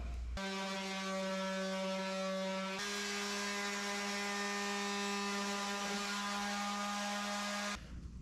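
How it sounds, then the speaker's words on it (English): A power sander flattens patches of epoxy wood filler during a home renovation, a steady loud motor whine with strong hum tones running continuously for several seconds, shifting pitch slightly partway through before cutting off. "I'm just going to take my sander and flatten them out"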